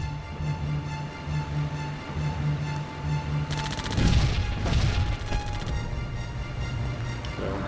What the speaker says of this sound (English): the half tracks do help with their machine gun on the top.